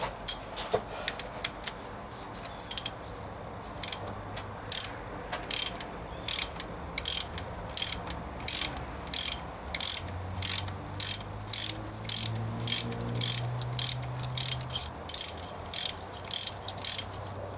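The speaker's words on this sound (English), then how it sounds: "we have a 13/16 socket, 21 millimeters, the same size" Ratchet fitted with a 13/16 (21 mm) socket loosening a fuel injector nut on a Cummins 6BT 12-valve diesel in a 1995 Dodge Ram, giving long runs of rapid, evenly spaced close clicks in bursts, with a low grinding undertone midway.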